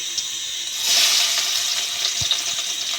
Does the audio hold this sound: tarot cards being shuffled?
no